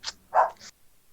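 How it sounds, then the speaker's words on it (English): A dog barks in a short burst of two or three close, loud yips and barks, with a brief quiet after and no talking. "Is that your dog?"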